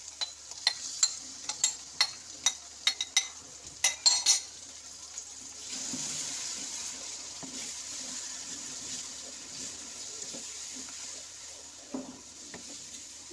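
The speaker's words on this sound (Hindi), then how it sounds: "दही डाल के इसे अच्छी तरह ज़रा बस पका लेंगे कि इसका मसाला अच्छा सा तैयार हो जाए।" Masala with yogurt cooking in a pot for tikka biryani, with a series of sharp utensil clinks and stirring taps against the pot at first, then a steady soft sizzle with occasional scrapes, close and moderately loud.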